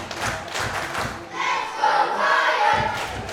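A wrestling arena crowd roars and cheers for Ryan Williams during a casket match, a loud, sustained wall of voices with a few dull thuds, and the noise swells in the second half.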